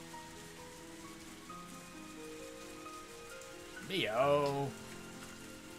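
Steady rain falls as a soft, continuous hiss in a visual novel sound effect, with a voice briefly calling out partway through.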